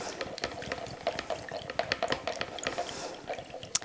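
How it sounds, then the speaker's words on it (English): A bamboo stirrer swirls fragrance oil into a diffuser base inside a container, making a steady run of light scraping, clinking and liquid sloshing strokes close by, with no one talking over it. "we're going to take our bamboo stirrer and we're going to give this a real nice stir"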